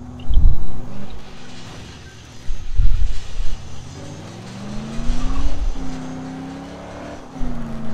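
A car driven in the video game Dead Island, its engine revving and droning loud and close in rising and falling surges, with tyre skids marking several sharp bursts.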